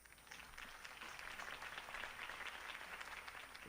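A crowd in Batman: The Telltale Series applauds after a campaign speech for Harvey Dent, giving a steady, fairly distant burst of clapping that stays even throughout.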